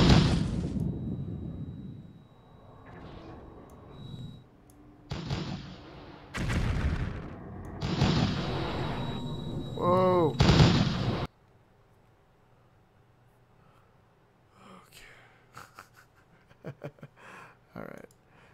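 Space turrets in the game Ceres are shot at with booming bursts of gunfire and explosions, loud and clustered over the first eleven seconds, then only faint scattered pops after; a voice talks over the action.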